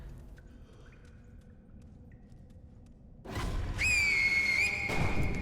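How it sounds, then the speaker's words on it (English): A single sustained, slightly rising whistle from the player character in the video game Sekiro: Shadows Die Twice, aimed at an enemy. It follows several seconds of quiet low ambience and a soft thud, and rings out clearly before fading. "Go ahead and whistle at him just so he knows where you are."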